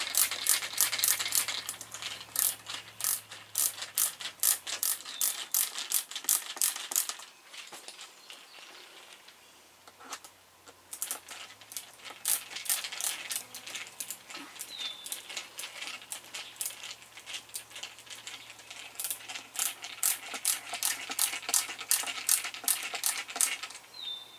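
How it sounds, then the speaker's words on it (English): Small metal bolts for trike accessories clink and rattle as they are lined up and screwed in by hand, with dense, rapid, close ticking taps running throughout, no talking. "Line them up, screw them in."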